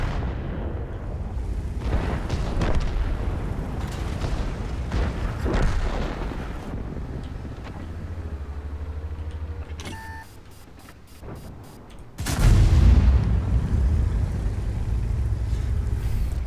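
Ho-Ri tank cannon in World of Tanks booms in several heavy blasts amid rumbling engine and battle noise, with beeping interface sounds in between and a final loud shot followed by sustained rumble.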